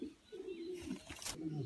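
Dutch Pomeranian pigeons coo in low, drawn-out rolling tones, close by, with a short burst of rustling midway.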